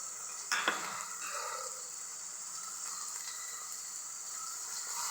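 Green chili and ginger dropped into a hot pan of sautéed garlic paste for pav bhaji, a quick clatter followed by a steady, close frying sizzle with light stirring.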